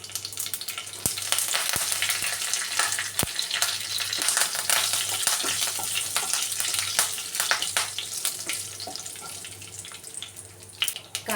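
Curry leaves fry in hot oil with cumin and asafoetida, giving a steady close sizzle with a few sharp crackles and spatters and occasional stirring taps.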